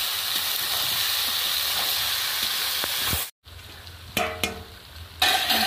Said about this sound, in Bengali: দিয়ে আমি ভালো করে এটা আবার কষিয়ে নেব।